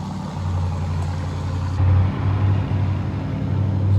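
A 30-series Harvester vehicle runs with no muffler, its exhaust a loud, steady low rumble with a slight surge in the middle, close by and without talk.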